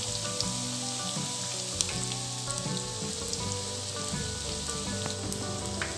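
Mutton cutlets deep frying in hot oil, Jaffna home-style, with a steady broadband sizzle and crackle throughout, close and fairly loud with no voices.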